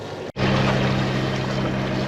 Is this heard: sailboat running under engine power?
yes